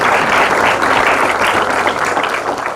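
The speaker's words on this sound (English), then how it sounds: "I was expecting some claps." An audience at a university bioengineering event on a campus breaks into loud, dense applause, many hands clapping together and close, then tapering slightly.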